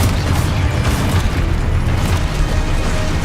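A Confringo blasting spell detonates in Hogwarts Legacy, producing a loud, heavy boom that rolls into a sustained, rumbling roar for several seconds.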